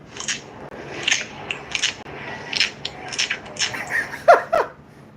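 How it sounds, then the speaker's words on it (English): Puffer fish sounds: rapid, irregular crunching clicks and scraping pops, several per second, close and moderately loud with no voices, like underwater grinding sounds. "that's what they said the sound of the puffer fish is"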